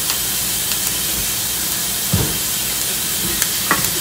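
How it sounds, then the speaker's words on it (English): Okra simmers in a pot on a stovetop over low heat, giving a steady, close bubbling hiss with a few soft clinks and knocks on top, and no talking. "Still over here simmering my okra."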